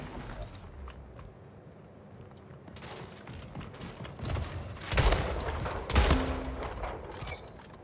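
Shotgun blasts in the video game Splitgate, with two loud, punchy reports about a second apart standing out over continuous game noise and low mechanical clatter.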